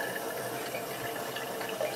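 Distilled alcohol from a home still making spirit from braga drips and trickles in a faint, continuous stream with no talking.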